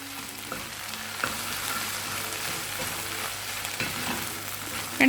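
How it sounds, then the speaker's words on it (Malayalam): Okra and grated coconut are stirred in a hot pan, a steady soft sizzle with scraping and stirring sounds close by, no talk. "ഇനി ഇതിലേക്ക് ഒരു 1/4 കപ്പ് തേങ്ങ ചേർത്ത് കൊടുക്കുക. എന്നിട്ട് ഇതിലിട്ടിട്ട് നന്നായി മിക്സ് ചെയ്തെടുക്കുക."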